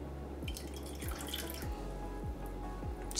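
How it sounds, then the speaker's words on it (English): Warm water is poured in small amounts into a spicy garlic noodle sauce made with lime and sugar. It gives soft, close-up trickles and drips that repeat about every half second, faint and with no talking. "And then we're gonna add just a little bit of warm water to that."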